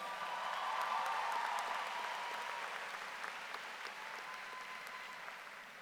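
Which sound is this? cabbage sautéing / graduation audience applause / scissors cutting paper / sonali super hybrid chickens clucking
graduation audience applause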